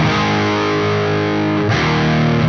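A heavily distorted electric guitar through a Plexi-style amp with a Lehle Sunday Driver boost pedal holds a thick, sustained chord, loud and saturated, with a flabby low end and a brief dip and restrike near the end.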